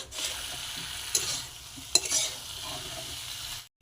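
Spice masala sautéing in a pan for a papaya lentil curry, a continuous close sizzle broken by stirring scrapes and a couple of sharper spatula knocks, ending abruptly.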